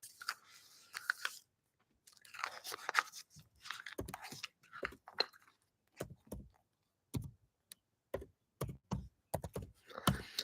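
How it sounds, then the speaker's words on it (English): Bursts of clicky typing on a computer keyboard, close and fairly quiet, with short pauses between runs of keystrokes and no speech. "I got to type my score for the day"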